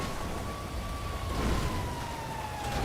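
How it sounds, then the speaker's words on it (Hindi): A fire brigade siren in a video game wails steadily in a slowly falling tone, moderately loud against a background hum, with no one talking. "एक और फायर ब्रिगेड आ गई तेरे को मारने के लिए।"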